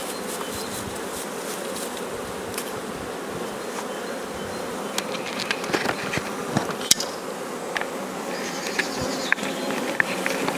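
Honeybees buzz on the frames of a nurse (cell-builder) colony in a dense, steady swarm hum heard close up, with scattered small taps and knocks throughout.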